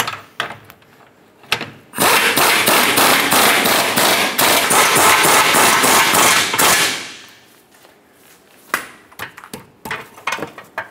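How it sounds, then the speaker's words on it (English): Rapid series of sharp metal hammer whacks driving a lower control arm bushing into place on a 2007-2012 Nissan Altima, loud and close, about a dozen blows in a dense burst followed by a few scattered lighter taps. "Just give it a few whacks."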